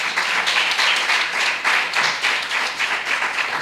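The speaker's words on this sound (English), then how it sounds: "Let's give them a round of applause." Audience applause at a school science fair awards ceremony, steady dense clapping from a crowd in a hall, continuous and fairly loud throughout with slight swells.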